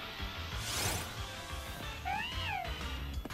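Liepard's cry from the Pokémon Sword video game rings out as a short, sliding, cat-like electronic yowl that rises and falls near the end, over quiet game background music.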